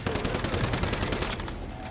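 Sniper and automatic gunfire from a firefight in the survival shooter Once Human, a dense, continuous barrage of loud rapid shots with sharp cracks throughout and no voices.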